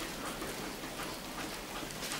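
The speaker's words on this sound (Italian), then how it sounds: "È dalle tre eh. che piove." Steady rain falls outdoors in Sardinia, a dense, even hiss of drops hitting surfaces with no talk over it.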